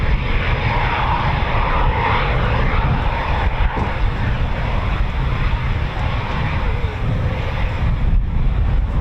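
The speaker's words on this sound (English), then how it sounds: "So Typhoon's taxiing." An RAF Eurofighter Typhoon FGR4 jet taxis at an air station, its engines giving a loud, steady roaring whine mixed with gusty wind noise, continuous and fairly close.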